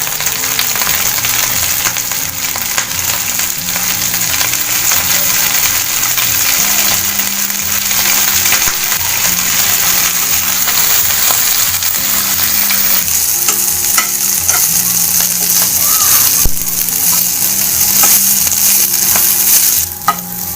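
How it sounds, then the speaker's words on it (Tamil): Pirandai (adamant creeper) frying in sesame oil in a pan, giving a steady, loud sizzle for the whole stretch, with occasional stirring scrapes and clicks and no talk. "ஸோ நல்ல ப்ரௌன் ஆகிற வரைக்கும் நம்ம இதை வதக்கி எடுத்துக்கலாம்"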